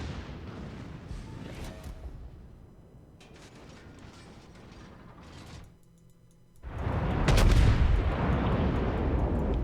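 Naval gun batteries of the USS Texas battleship fire in World of Warships, heavy booming salvos with mechanical clanks and rumble, a big loud blast near the end rolling on at length.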